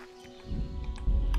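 Horse hooves in Kingdom Come: Deliverance, a medieval video game, thud in a few low, close clip-clop steps near a standing mount, with a heavier impact near the end.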